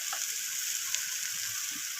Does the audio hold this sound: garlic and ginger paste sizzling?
yes